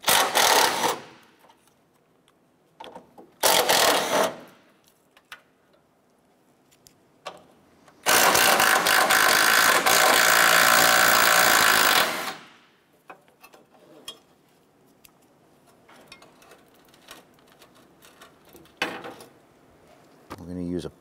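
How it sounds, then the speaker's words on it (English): Bolts on the radiator side bracket of a Chevrolet Impala are removed with a 13 mm socket, heard as several loud bursts of a power ratchet or impact tool, the longest about four seconds, with quiet handling noises and short speech between them. "Using a 13 millimeter socket, we're gonna go ahead and remove the bolts securing this side bracket on the side."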